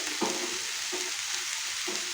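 Chopped tomatoes and salt frying in a pan, giving a steady soft sizzle with a few gentle stirring scrapes, close and quiet.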